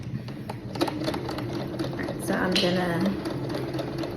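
A Singer Quantum sewing machine stitching in quick, even mechanical bursts, moderately loud and close, while a person speaks briefly over it.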